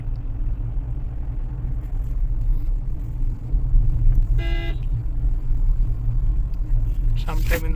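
Car horn toots briefly amid rumbling traffic and engine noise, with a second honk near the end; voices talk over the road sounds.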